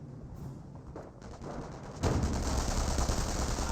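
Battle gunfire in the Company of Heroes video game, with a Rifleman squad under fire: dense, continuous rattling shots and explosive rumble that grow sharply louder partway through and stay heavy to the end.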